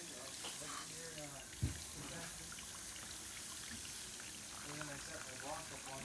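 Hose water splashes and trickles steadily against a 1960s GE high thin line air conditioner during cleaning, a continuous wash with one brief knock, as people talk over it.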